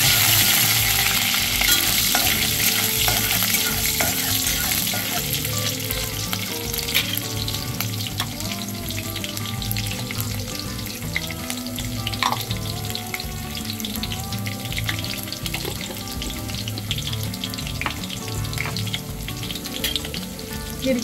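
Chopped green chillies fry in hot oil for sabudana khichdi tempering, a steady close sizzle with occasional scraping of the stirring spoon in the pan.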